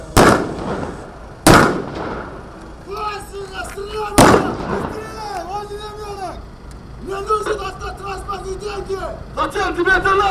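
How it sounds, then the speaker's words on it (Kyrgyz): Blank gunshots ring out during a police parade demonstration in a central square, three loud, echoing bangs spaced a few seconds apart, with a voice over a loudspeaker continuing between and after them. "Бұл учурда кылмышкерлер тарабынан Атайын октор атылат."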